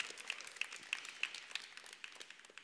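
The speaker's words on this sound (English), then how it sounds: "Can I just applaud our production team that we don't have that many issues?" Church congregation applauding, faint scattered clapping of many hands with irregular sharp claps over a steady patter, somewhat distant.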